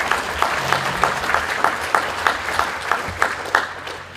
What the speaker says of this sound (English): I think that deserves a round of applause.